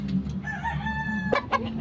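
A rooster on a Filipino gamefowl farm crows once in a drawn-out cock-a-doodle-doo at moderate distance. A few short squawks follow near the end, over low background murmur.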